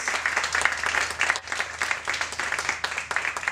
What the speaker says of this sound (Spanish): Un aplauso por favor para nuestros participantes.